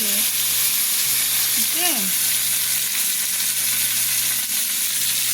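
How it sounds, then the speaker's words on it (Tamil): Fish frying in olive oil in a pan at a city park, a continuous loud sizzle with a few brief voices over it early on. "இங்கே பாரு, மீனை திருப்பி திருப்பி போடணும்."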